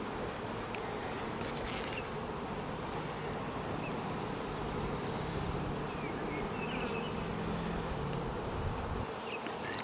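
Honey bees buzz densely and steadily at an open, overwintered hive, a close, continuous drone with no voices.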